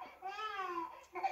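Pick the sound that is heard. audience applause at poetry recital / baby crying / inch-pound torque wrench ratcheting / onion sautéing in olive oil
baby crying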